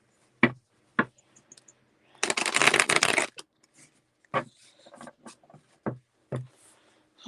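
Cards riffle together in one dense burst, with scattered taps and flicks of handling before and after, close up and without voices.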